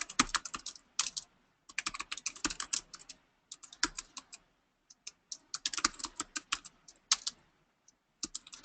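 Fingers typing on a computer keyboard, quick irregular bursts of soft key clicks with short pauses between them, close and fairly quiet with no talk.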